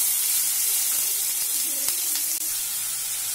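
Chopped onions fry in a pan with a constant bright sizzle and hiss, close and steady, with a faint stir or clink now and then and no talking.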